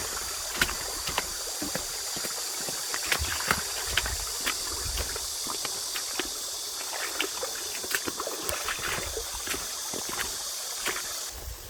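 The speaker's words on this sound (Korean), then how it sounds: "보시는 것처럼 계곡이 흐르고 있습니다." A mountain stream flowing beside a rural country house, with a steady broadband rush of running water and scattered brief clicks and splashes, continuous and fairly close, with no voices.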